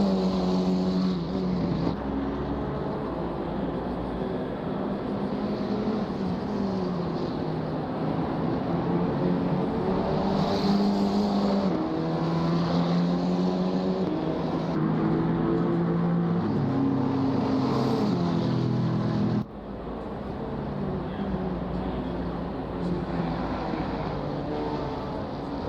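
Race cars lapping the Nürburgring GP circuit in a racing video game, with engines droning and shifting pitch in repeated rising and falling sweeps, loud and continuous, with an abrupt drop in level near the end.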